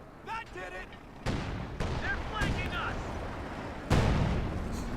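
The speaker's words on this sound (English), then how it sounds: "bulldozer shell misses the snipers" A Bulldozer Sherman tank fires a shell in Company of Heroes 2. Several heavy booming blasts go off in sequence, mixed with other battle noise, while a commentator talks over the action.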